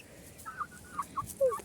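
A pet budgerigar gives a few short, bright chirps in quick succession, close and fairly clear against a quiet background.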